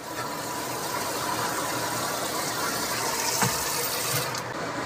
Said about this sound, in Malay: Kita tambahkan air ya.